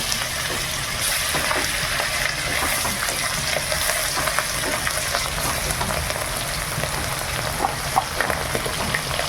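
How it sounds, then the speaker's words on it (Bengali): Fultusi river fish from the Kangsabati fry in hot oil with turmeric, a dense, steady sizzle with scattered sharp spits and pops, close and alone with no talk. "মাছটা ভাজার সময় ঢাকা দিয়ে ভাজবে, প্রচুর ছিটকাবে"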